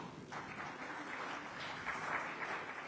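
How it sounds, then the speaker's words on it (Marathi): An audience at a public talk claps in a steady patter of applause, fairly soft and sustained for a few seconds without any talking. "एकदा स्वतःसाठी जोरदार टाळ्या"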